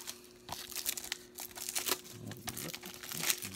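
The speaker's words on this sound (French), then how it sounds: "je vais également le déballer avant de poursuivre" Plastic shrink wrap being peeled off a Blu-ray case, giving close, loud crinkling and tearing bursts in irregular bunches over a few seconds.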